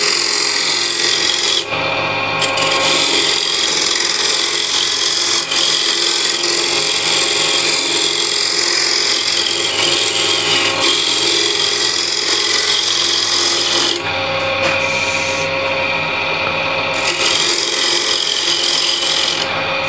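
A continuous loud scraping rasp of a scraper cutting spinning wood on a lathe under light pressure, steady and harsh with a few short pauses in pressure.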